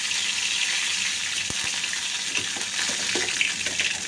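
Mustard seeds and fresh curry leaves crackle and sizzle in hot oil on a stove for onion chutney, a steady soft hiss with a few sharp pops and stirring clicks.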